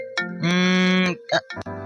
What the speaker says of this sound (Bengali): কে যে অসময়ে ফোন করে।